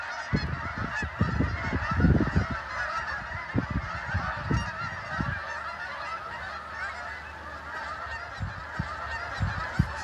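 A flock of geese honks continuously at a distance, with a steady chorus of calls and occasional low thumps and rustles nearby.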